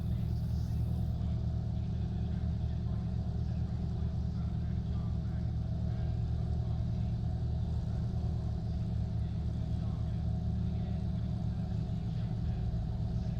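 Race cars idle on the starting grid at the Red Bull Ring in the racing game Assetto Corsa Competizione, a steady, dense low engine rumble that holds evenly throughout without pause.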